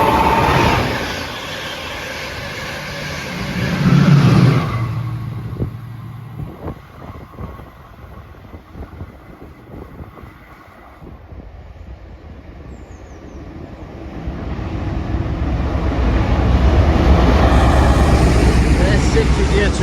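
A Chiltern Railways service at a station: a low rumble of a train swells, fades to quieter platform ambience with scattered knocks, then builds again into a sustained rumble of a train arriving or passing close by, with some talk mixed in.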